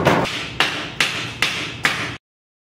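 Five sharp, evenly spaced hammer strikes, each a loud crack with a short decaying ring, about half a second apart, close by and alone before an abrupt cutoff to silence.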